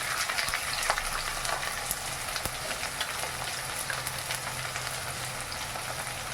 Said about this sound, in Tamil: கடுகு போட்டுக்கலாம் கொஞ்சம் உளுத்தம் பருப்பு